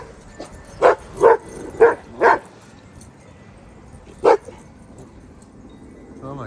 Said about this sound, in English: And they're barking at it again.